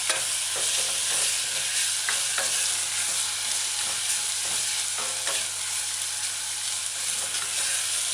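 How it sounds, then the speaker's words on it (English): Chicken and broccoli stir-fried in hot oil, a steady loud sizzle with a wooden spoon scraping and stirring through it, close up and without talk. "So use a wooden spoon or a spatula and just stir fry."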